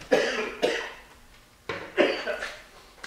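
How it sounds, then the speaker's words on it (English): A person coughs several times in two clusters, sharp and close, with brief pauses between the fits. "Oh, you got a bad cough."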